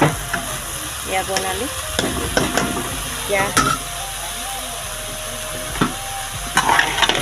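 Chopped banana flower fries in a pan with a continuous loud sizzle, broken by scraping stirs of a spatula and occasional clanks, while someone speaks briefly over it.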